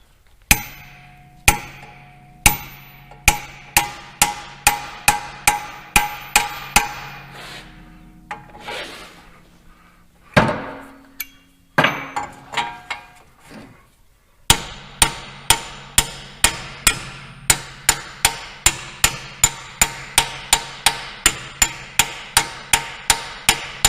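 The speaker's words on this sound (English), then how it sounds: "Take our socket. This might take some beating." Repeated hammer strikes on a socket driving a rear axle bearing into place, loud sharp metallic blows in steady rhythmic runs with a brief pause midway, close and alone without talk.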